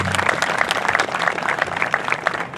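A crowd at a high school class night applauds outdoors, even, steady clapping filling the brief moment without a break.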